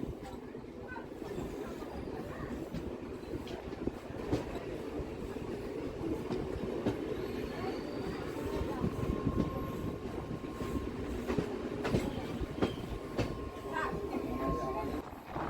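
A Bangaon-Ranaghat local train rolls steadily over rail sleepers, with a constant rumbling roar, repeated clickety-clack rail joints and brief whines of wheel squeal. A faint thin tone comes in partway through.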